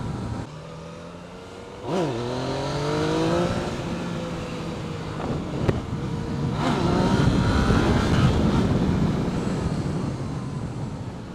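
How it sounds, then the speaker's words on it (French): A Yamaha MT-09 motorcycle engine revs sharply and accelerates hard, pitch climbing through gear changes, then a loud sustained roar as it pulls away. "Le moteur est tellement explosif qu'il est possible de lever en troisième."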